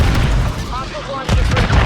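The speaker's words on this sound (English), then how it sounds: "Friendly cruise missile deployed." A cruise missile explosion in Call of Duty: Modern Warfare III multiplayer, a loud booming blast with a second burst partway through, mixed with game announcer radio voices.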